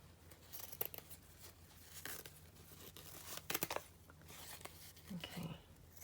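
Paper cut with scissors for a junk journal project from an old box, giving quiet close snips and crinkles in an irregular rhythm, with a few sharper cuts midway.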